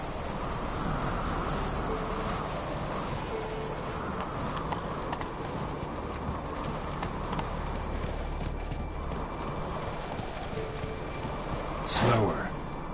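Hooves of the horse Roach clopping in a steady trotting rhythm in The Witcher 3, moderately close over a constant wind-like background.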